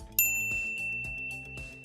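A single bright notification ding rings out and lingers, its clear bell tone slowly fading over the next second and a half with nothing else heard.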